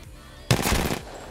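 A gun fires in the video game Apex Legends, one short rapid burst of automatic shots lasting about half a second, loud and sharp against quiet background.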